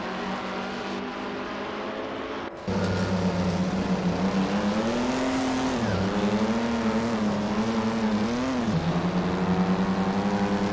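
1950s Formula 1 race cars lapping Bridgehampton in an AI racing game: a loud, steady engine drone holding a sustained pitch, dipping briefly on gear changes, with no talk.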